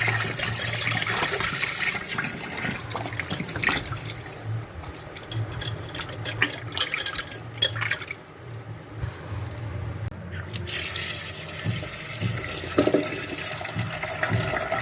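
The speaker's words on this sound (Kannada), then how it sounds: "ಚೆನ್ನಾಗಿ ನೀರು ಹಾಕ್ಕೊಂಬಿಟ್ಟು ಕಪ್ಪಗಾಗುತ್ತೆ ನೀರು ಮೇಲೆ ಸಿಗ್ತಾ ಇಲ್ಲ ಹಿಂಗೆ ಉಜ್ಜಿ ಉಜ್ಜಿ ಒಂದು ಸ್ವಲ್ಪ ತೊಳ್ಕೊಬೇಕು" Roasted bitter gourd being washed and rubbed by hand in water to remove the charred skin, with steady splashing, sloshing and clinking of vessels throughout, close and fairly loud with no talk.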